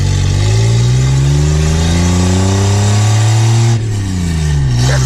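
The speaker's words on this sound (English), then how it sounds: "this is gonna be a first through third full throttle in this thing" A slow car pulls at full throttle through first, second and third gear, its engine note rising steadily and loud, dropping at each upshift before climbing again, with no talk.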